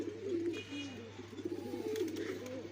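A high flyer pigeon coos nearby in a soft, repeated series of low, rolling burbles over a faint steady hum, with no talking.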